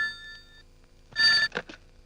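A telephone rings briefly with a steady electronic tone in a Telugu comedy film scene, followed by a short burst of louder, rougher sound; no talk is heard.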